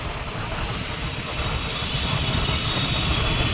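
A Western line metro train in Mumbai rumbling steadily near the Western Express Highway, a continuous broadband roar that swells slightly toward the end, with no clear talk.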